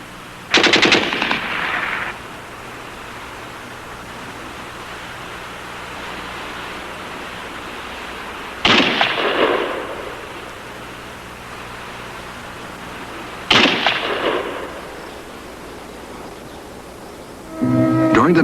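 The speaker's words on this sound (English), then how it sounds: "some casual shooting disturbing the quiet. A few snipers dueling to relieve the tension." Gunfire from snipers trading shots in wartime, three loud bursts spaced several seconds apart with a fourth starting at the end, each fading into a hiss of noise between them.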